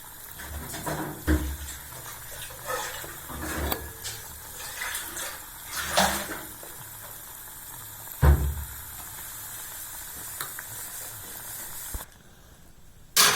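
Green gram paniyaram frying in hot oil, a steady sizzling hiss with bursts of spattering crackle that swell and fade, close and fairly loud, ending in a brief quiet.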